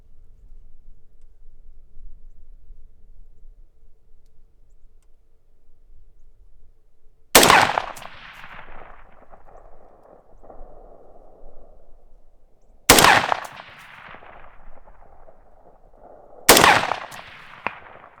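A 20-inch Aero Precision upper rifle fired at a distant target outdoors, three sharp loud shots spaced several seconds apart, each followed by a ringing echo and reverberant tail over quiet background.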